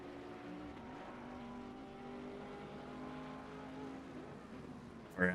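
Race cars, including a Porsche and a Bentley battling for third place at the Nürburgring, roar steadily past with a continuous engine drone that holds at an even level, then a brief louder burst near the end.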